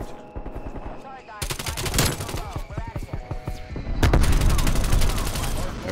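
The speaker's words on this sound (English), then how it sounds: "Strafe run. This should be good right here." Aircraft strafe run firing in the Call of Duty Cold War video game, with dense bursts of rapid gunfire rattling loudly through the whole stretch. The fire intensifies near the end.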